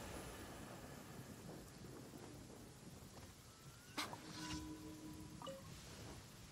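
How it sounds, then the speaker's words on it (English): Rain patters steadily in Genshin Impact, then a sharp thunder crack strikes near the middle and rumbles briefly before the rainfall continues, all fairly faint. "Many people dread the sound of thunder."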